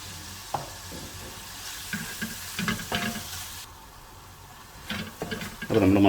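Masala sautéing in a pan for duck pepper roast, a close steady sizzle with repeated scraping stir strokes and occasional clatters of the spoon, loud and continuous with no voices.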